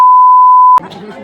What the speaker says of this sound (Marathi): हा मी बीप करेन